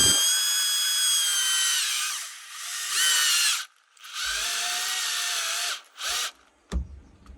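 A power drill runs in several bursts while boring into a campervan bulkhead on an Iveco Daily van build, a long whining spin, a pause, then shorter runs and brief final taps, close and loud with no talk.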